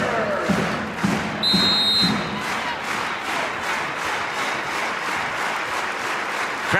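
A women's volleyball arena crowd in Lincoln, Nebraska, roars, cheers and applauds steadily throughout, a dense, sustained wash of noise with a few thuds early on and a brief whistle-like tone.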